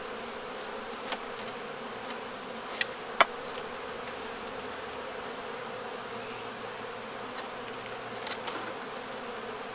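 Honeybees droning steadily around an opened hive during an inspection for a laying worker, a low continuous buzz with a few brief louder passes close by, no talking.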